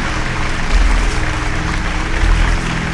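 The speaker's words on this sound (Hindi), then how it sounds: "हम चाहब के जोरदार ताली से स्वागत करें के चंदन जी के" An audience at a televised Bhojpuri singing competition claps loudly to welcome a singer, a dense, sustained burst of applause that swells in two waves.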